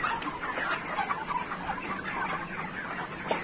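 A flock of broiler chickens on a poultry farm clucks steadily in a dense, soft chorus. The sound is fairly faint and continuous, with no one speaking.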